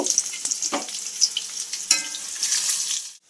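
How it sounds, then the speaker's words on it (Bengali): Boiled, cut potato pieces fry in hot oil, a loud crackling sizzle with sharp pops and stirring clatter that runs steadily before cutting off abruptly at the end. "যে সিদ্ধ আলুটা আমি পিস করে কেটে রেখেছিলাম ভেজে নেব।"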